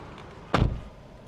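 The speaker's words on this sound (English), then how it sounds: "let me shut my door." A single solid thud as the door of a 2023 Ford Explorer is shut from inside, one short, muffled, close impact with a quick decay against a quiet cabin.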